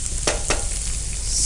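Paneer frying with spices in a pan gives a loud continuous sizzle, with two quick scraping stirs near the start.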